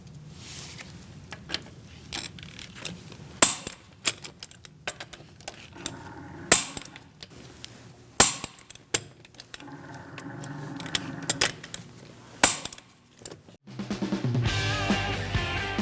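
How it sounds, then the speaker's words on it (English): Torque wrench and 17mm socket tightening the wheel lug bolts on a 2000-2006 Mini Cooper, heard as a string of sharp, irregular metallic clicks and knocks close by, ending in a louder broadband rattle. "We're going to torque our wheels to 95 foot-pounds. I'm using a 17mm socket."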